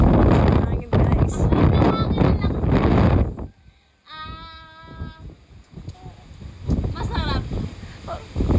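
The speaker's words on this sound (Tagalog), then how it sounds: "Hangin guys." Wind gusting across open green countryside, a broad rumbling rush buffeting the microphone, loud in bursts with a quieter lull midway, while people talk over it.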